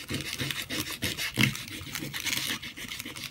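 Fine-grit sandpaper rubbed over an old lamp during a makeover, close rasping strokes in a quick back-and-forth rhythm, steady and moderately loud with no talk.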